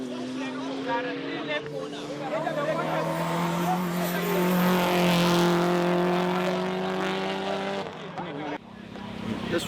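A Toyota Supra and a Subaru race on a circuit, engines droning loud and steady with rising and falling pitch throughout, tyres squealing in places, and the roar swelling toward the middle before easing off near the end.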